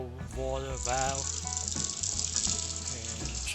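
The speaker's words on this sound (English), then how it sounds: "it's time to turn on the cold water valve" Cold water runs from a newly installed Delta faucet into a sink after the supply valve is opened, a steady close rushing gush lasting throughout, with music playing underneath.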